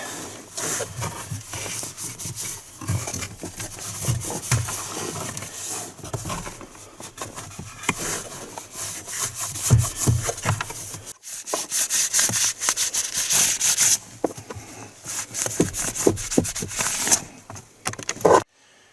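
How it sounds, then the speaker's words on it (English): Close, continuous rubbing and scrubbing of cloth wiping out the cabin filter compartment of a Chevy Silverado or GMC Sierra, with scattered knocks and scrapes, uneven in intensity, no talking. "Alright, so we're just going to wipe that out as well as we can."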